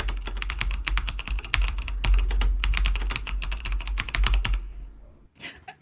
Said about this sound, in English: should just be us furiously typing